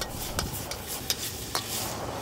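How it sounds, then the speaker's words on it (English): Oil sizzles in a wok during stir frying, with flaring splashes, a steady hiss and a few sharp scraping stir strokes spaced across the short stretch, close and fairly quiet, no voices. "You can see some splashing oil making its way into the bowl of the wok and catching on fire here"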